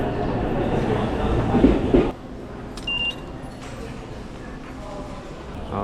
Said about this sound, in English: this is our train for the next 40 minutes or so